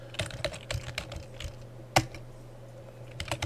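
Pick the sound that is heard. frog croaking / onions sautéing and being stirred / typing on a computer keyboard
typing on a computer keyboard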